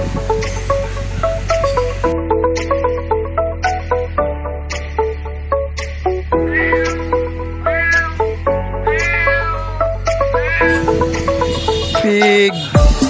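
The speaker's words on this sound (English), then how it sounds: "Cat." Domestic cat meowing repeatedly, a dozen or so clear, loud meows in quick irregular succession, close to the listener, with no talk over them.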